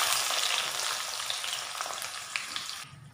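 Chopped onion sizzles and fries in hot oil with spluttering mustard seeds for an upma, a steady close crackling hiss with no voices, easing slightly toward the end.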